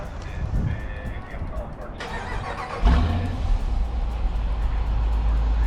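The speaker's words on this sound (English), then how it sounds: "Give you a little start." A Dodge Durango engine cranks and catches, then settles into a low, steady rumble with a slight rev; faint sounds precede it.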